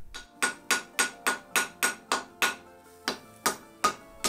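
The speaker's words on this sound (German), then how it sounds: "Ich nehme dort einen kleinen Hammer und mache viele leichte Schläge" A small hammer delivers a steady series of light, ringing blows on damascus steel at the forge, about a dozen evenly spaced metallic strikes, close and clear with no talk.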